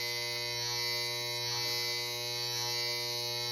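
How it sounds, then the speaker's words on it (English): Electric hair clippers fitted with a number 2 extended guard trimming beard hair, giving a steady close-up buzzing hum with a slight wavering as the blades cut, and no talking. "So I'm going to put on a number 2 extended. And as you can hear, it's definitely cutting some hair."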